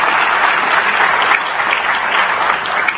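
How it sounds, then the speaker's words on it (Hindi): A large audience applauds steadily at a spiritual discourse, a dense, continuous wash of many hands clapping at full strength for the whole stretch, with no voices over it. "अरे इसमें तो ढंग से ताली बजा दो कम से कम।"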